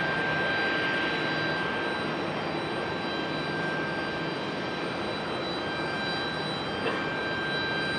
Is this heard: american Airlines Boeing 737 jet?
yes